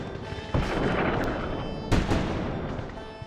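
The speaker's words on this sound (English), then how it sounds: "a surprise attack from Union gunboats rained down cannon fire on the beleaguered Confederates" Booming cannon fire from Union gunboats in a Civil War attack, with two heavy blasts about a second and a half apart, each trailing into a rumbling roar.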